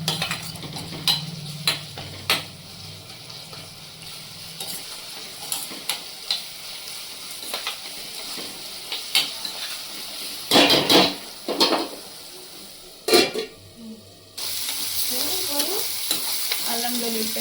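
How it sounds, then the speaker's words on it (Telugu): Ginger garlic paste fries in a pan for crab curry, with a soft steady sizzle broken by sharp spoon taps and scraping stirs. Near the end a louder burst of frying sets in, and no one speaks. "అల్లం వెల్లుల్లి పేస్ట్ వేసుకోవాలి. ఇది మంచిగా వేగనివ్వాలి."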